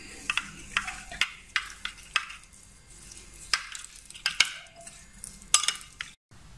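Spoon stirring Mexican salad ingredients with salt and fresh coriander in a bowl, giving a steady run of close clinks and scraping taps against the dish, no voices.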